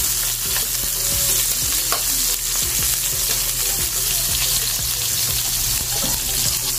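Chopped onion and tomato aromatics sautéing in a pan until golden brown for ginisang sayote with chicken, a steady close sizzle with stirring scrapes throughout and no voices.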